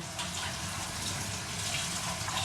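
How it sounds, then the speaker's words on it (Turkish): Milk poured over a walnut börek filling in a village kitchen, a steady close liquid pour with a continuous broad wash and no talk. "Evet şöyle hemen sütten dökelim biraz daha."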